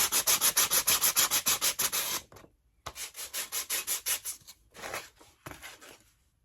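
Close hand sanding of a rough edge on a wooden Dollar Tree sign: rapid, even rasping strokes, then a short pause before slower, uneven strokes resume and trail off.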